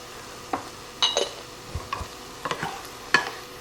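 Vegetables cooking in a pot, seasoned with salt and pepper, with several short stirring scrapes and a faint sizzle at close range.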